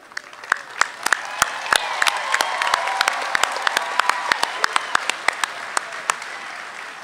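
Applause at a university commencement ceremony for graduating bachelor's degree candidates, a broad swelling wash of crowd clapping in a large venue, punctuated by many sharp, distinct nearby claps.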